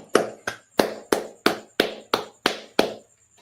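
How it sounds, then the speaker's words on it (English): Hands clap nine times in a steady, even rhythm, each sharp smack close and crisp, then stop. "All right, clap it up."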